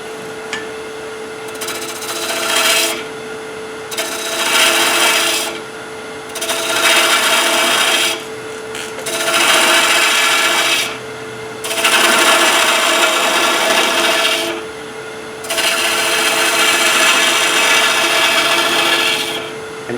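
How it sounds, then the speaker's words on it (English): Spindle gouge cutting wood on a lathe, heard as six loud rasping, scraping passes of the tool against the spinning piece, separated by short pauses in which a steady motor hum continues alone. "I'm going to use a spindle gouge and just practice my cut."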